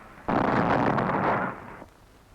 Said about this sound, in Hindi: ये धमाका गांधी जी की हत्या करने के लिए एक हिंदू शरणार्थी के फेंके हुए बम का था।